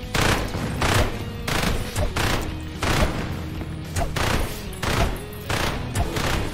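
Rapid gunfire crackles in a roguelike mining horde-survival video game, a steady stream of sharp, loud shots in quick irregular bursts that keep going for several seconds without letup.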